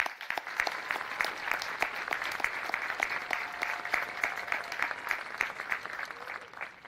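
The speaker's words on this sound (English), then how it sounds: "Let's give them a big round of applause." Graduates at a high school commencement ceremony receive a big round of applause, with steady crowd clapping continuing throughout at moderate volume and a few individual claps standing out.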